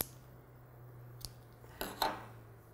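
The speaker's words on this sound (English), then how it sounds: "then I usually will cut the waste yarn" Scissors snip waste yarn during knitting, a few faint, quick crisp cuts close by over a quiet room with a low steady hum, no talking.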